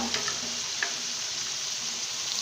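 Vegetables for a chicken macaroni dish fry in a pan with a steady, even sizzle from start to finish, with a few brief clicks near the start.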